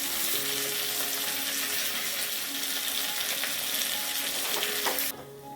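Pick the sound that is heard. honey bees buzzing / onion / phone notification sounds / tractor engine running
onion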